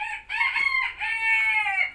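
A Javanese rooster crows once, close and loud, a long ringing cock-a-doodle-doo that holds for about two seconds before fading.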